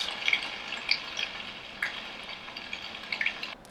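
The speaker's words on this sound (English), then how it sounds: "rain on leaves," Rain pattering on leaves plays from a Hatch Restore sleep sound machine as a soft, steady hiss with scattered light taps and drips, fading out at the end.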